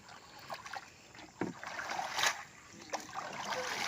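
A small boat pushes slowly through thick water spinach on a fishing trip, with faint intermittent swishes, rustles and soft watery splashes coming in irregular bursts at low volume.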